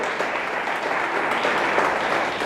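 Loud, dense applause from a church congregation in a worship service, steady and sustained throughout.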